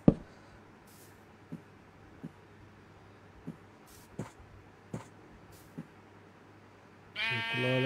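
A Minecraft sheep gives one short bleat near the end, after a stretch of quiet game ambience broken by faint, scattered clicks.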